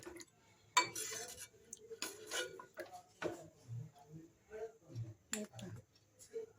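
Mutton curry is spooned from a pot onto a plate, producing scattered utensil clinks and soft scraping taps in irregular bursts, fairly faint, with a few quiet background noises between them.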